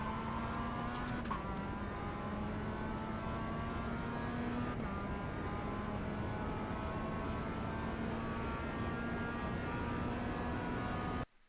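A Mazda MX-5 engine in the iRacing game at Tsukuba drones loud and continuous as it accelerates, the engine note climbing steadily through the gears with brief shift dips, with no talk over it.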